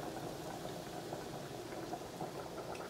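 Water for Haitian white rice comes to a boil in a pot, a continuous close bubbling roil holding steady and fairly quiet throughout with no voices.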